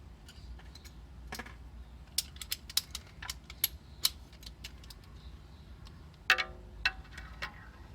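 A ratchet on a long extension loosens spark plugs deep in an engine, clicking in quick, close, sharp bursts with brief pauses between strokes.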